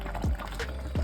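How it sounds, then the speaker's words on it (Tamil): Water is poured into a boiling pot of sprouts saaru curry, giving a few short close splashes and gurgles over about a second. "இந்த தண்ணியை இதில் சேர்த்துருங்க."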